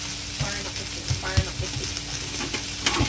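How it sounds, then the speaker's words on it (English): A spoon stirs curry potatoes with cumin in a sizzling pot, giving a few scraping knocks against the metal over a steady fry, close and fairly loud. "you want to just continue stirring that"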